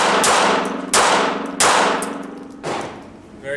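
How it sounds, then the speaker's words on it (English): A Glock 42 pistol chambered in .380 ACP fires four sharp, loud shots in fairly quick succession, each cracking and ringing out with a brief echo, with no talking. "So let's go ahead and try it. Check the recoil, try to see how the recoil is at a little faster"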